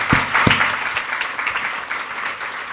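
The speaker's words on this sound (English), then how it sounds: "please give a warm round of applause for Elizabeth Corver-Glenn" Applause at a real estate symposium as a guest speaker is welcomed, a few sharp close claps at first, then steady clapping from the audience that gradually fades.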